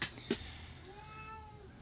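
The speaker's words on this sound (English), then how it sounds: "Yeah, Kitty agrees" A cat meowing indoors, one short close meow followed by a faint drawn-out call, quiet overall and without talk.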